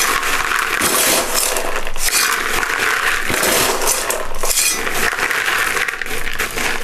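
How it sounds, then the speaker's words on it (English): Pumice is poured and handled in a plant pot during repotting of a Miltonia Sunset orchid, making a loud, continuous close-up crunching and gritty clinking rattle with no talk. "Let's put a layer of pumice in first."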